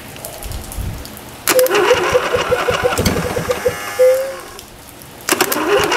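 A Briggs & Stratton Intek 20 HP engine being started after choking: loud bursts of cranking and sputtering firing that catch briefly, drop back, then restart near the end, close and loud with no talking.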